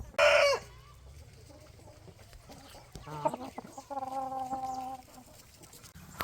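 Chickens and roosters cluck on a farm where naked-neck pullets are kept, with one loud sharp squawk at the start followed by quieter scattered clucks and a drawn-out crow-like call, moderately close.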